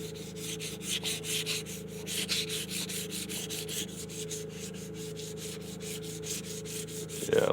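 Fine 600-grit sandpaper rubs across guitar frets in an even, repeated back-and-forth rhythm, soft and close over a low background hum, ending with a small knock.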